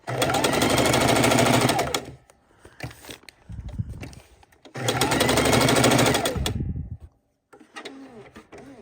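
A sewing machine stitches raw edge appliqué in two loud, rapid, steady runs, each about two seconds long, separated by pauses with lighter handling clicks. A few short whirring bursts follow at the end.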